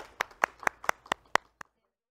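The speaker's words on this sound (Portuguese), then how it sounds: "Palmas para vocês." A handful of people clap after a music performance at a women's songwriting camp, about seven sharp, close claps in uneven rhythm that stop abruptly, leaving quiet.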